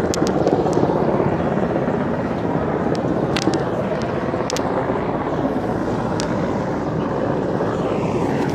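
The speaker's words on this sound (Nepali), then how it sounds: "हेलिकप्टरद्वारा चाहिँ" Army rescue helicopter flying over flooded river at Melamchi, Sindhupalchok, Nepal: a steady, loud rotor and engine roar that holds level throughout under rushing water noise, with no talk.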